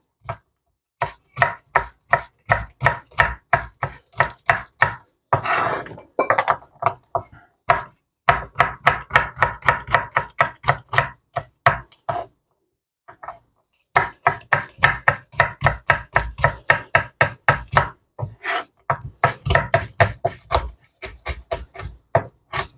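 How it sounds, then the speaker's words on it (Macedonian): Rapid, rhythmic knife chops through walnuts on a cutting board in long runs with short pauses, crisp and close, no voices. "Додека јаболката се печат, преминуваме на сецкање на оревите."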